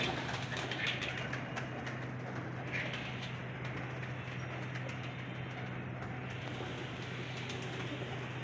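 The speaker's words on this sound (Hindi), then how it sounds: "चार सौ के करीब ब्रीडर कबूतर है" A dense chorus of about four hundred breeder pigeons cooing in cages, many birds at once, continuous and steady over a low constant hum.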